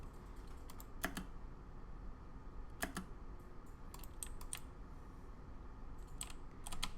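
Sparse computer keyboard key presses, a few separate clicks and short quick bursts, quiet and close over a soft room hiss, no talking.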